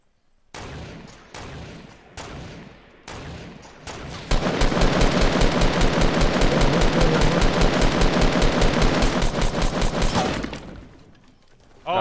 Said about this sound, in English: Oh, he has a machine gun too.